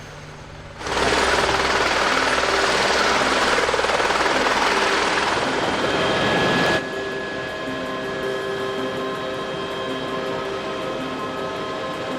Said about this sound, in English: That's the helicopter we're going to take to the Mendenhall Glacier.